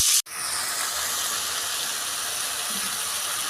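Ginger-cumin paste fries with tomato in a pan, giving a steady, soft, close sizzle and hiss that continues evenly after a brief cut near the start, with no talking.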